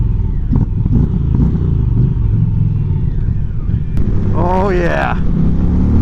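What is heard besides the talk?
Indian 112 PowerPlus V-Twin motorcycle engine idling and revving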